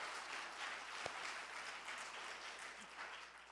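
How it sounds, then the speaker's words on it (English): An audience applauds for a hosting organization at the opening of a Pride-themed reading event, a steady wash of clapping held at a fairly even level throughout, with one sharper isolated clap standing out near the middle. "So a big, let's do a clap for them."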